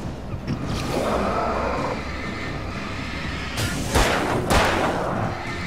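Gunshots from the horror action game Alan Wake, a couple of loud, sharp reports late on over a rumbling, low ambient background.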